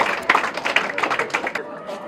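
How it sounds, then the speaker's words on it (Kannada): Children at a school name board inauguration clap together in a steady, dense patter of many hands that carries on throughout, close and fairly loud. "ಎಲ್ಲರೂ ಚಪ್ಪಾಳೆ ತಟ್ತಾನೆ ಇರಿ."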